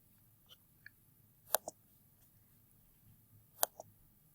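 Faint, sparse clicks of a computer keyboard: a handful of light keystrokes scattered over a few seconds, some in quick pairs, in an otherwise quiet room.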